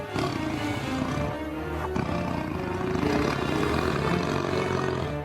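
A tiger roars loudly and continuously in the wild, a deep rumbling growl layered with dense dramatic music that runs throughout without a break.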